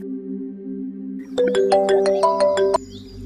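Phone ringback tone while a conference call is being connected, a steady low tone giving way to a rhythmic series of beeping rings with faint background hum.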